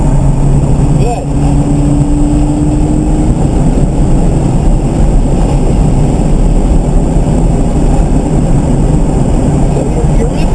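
A 2013 Scion FR-S engine drones steadily and loudly at the Harris Hill Road race track, a continuous, close in-car roar with a brief dip in pitch early on and voices talking over it.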